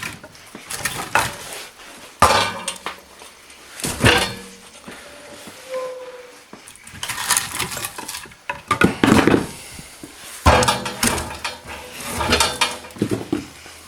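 Hardwood pieces are tossed into a homemade barrel wood stove, several loud hollow clunks and metallic bangs arriving in irregular bursts, close by, with rattling and shuffling between throws.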